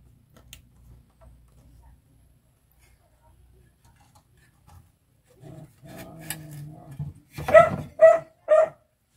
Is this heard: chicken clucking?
no